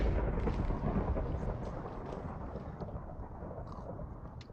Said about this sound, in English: Okay, it just summons lightning.